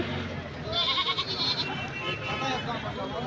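Male goats at a goat market in Ramapuram, Annamayya district, bleat in short calls amid crowd murmur and nearby talk.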